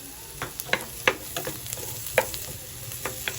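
Garlic and onion sauté in a little oil in a pan on a home stove, a steady soft sizzle broken by several sharp stirring scrapes at an irregular rhythm, close and moderately loud with no talking.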